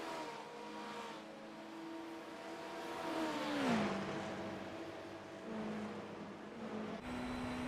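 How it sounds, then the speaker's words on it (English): Porsche hybrid hypercar in an endurance racing game at Daytona, its engine droning at a moderate distance with a rising and falling pitch through gear changes, fairly faint and steady. "You hear the nice, awesome engine sounds of these hypercars and their hybrid engines."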